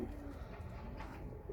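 Pigeons kept for sale in Iraq coo softly, low and throaty, in a gentle repeating murmur with no talk over them.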